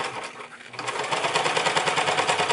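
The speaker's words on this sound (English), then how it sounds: "I'm going to go to the machine, I'm going to flip the buckle, and we're going to top stitch" A sewing machine top stitches a thick custom leather belt: a fast, steady mechanical chatter of stitches, close and loud, picking up after a brief quieter moment at the start.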